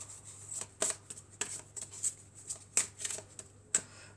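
Oracle cards are handled and drawn from a deck: soft, close slides and flicks of card stock come in irregular bursts against quiet background hum.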